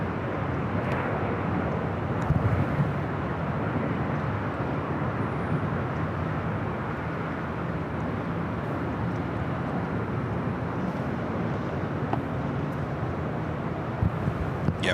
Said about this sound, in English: This is UAE A380 going to Dubai on the south side terminal.